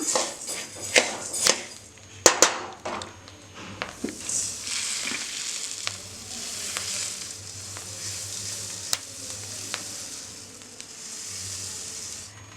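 Coriander seeds dry roasting in a pan for Tamil kari masala, a steady close sizzle and hiss with scraping stirs and sharp clinks of a ladle against the pan, louder at the start and settling into continuous crackle.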